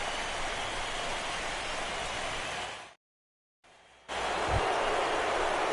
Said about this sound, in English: the rain continues to fall here